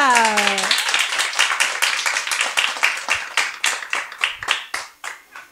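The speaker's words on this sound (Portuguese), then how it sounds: "E quem gostou, aplaude com alegria." Applause follows a children's story reading at a library soirée. A brief voice opens the clip, then a lively round of clapping with close, distinct claps runs steady and gradually thins toward the end.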